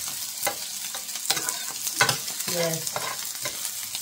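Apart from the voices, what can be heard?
garlic and onion frying in olive oil, stirred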